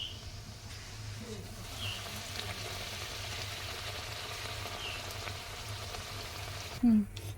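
Spinach luchi puffs up in hot oil with a steady, fairly quiet frying hiss throughout, and a brief louder clunk comes near the end.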